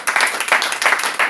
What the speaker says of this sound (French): Applaudissez pour voir.